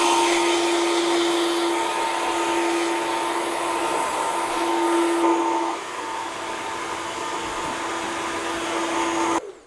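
A hair dryer blows cool air onto a client's hair after a long-to-short haircut, giving a loud, steady, close whine that drops slightly partway through and cuts off abruptly at the end.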